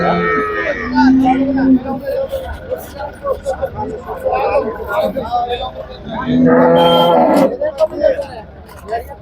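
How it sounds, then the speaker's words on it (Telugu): Heavy HF cows low loudly at the Sardar Nagar cattle market as they are unloaded from vehicles, with two long, close moos standing out over steady market bustle and background chatter. "ఇక్కడ ఇంకా వస్తూనే ఉన్నాయి ఆవులు"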